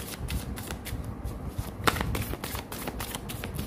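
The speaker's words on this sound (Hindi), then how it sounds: "कार्ड्स को ना शफल करना पड़ता है" Tarot cards being shuffled by hand, a steady run of soft riffling and slapping card sounds with one sharper snap partway through, close and fairly quiet with no talking.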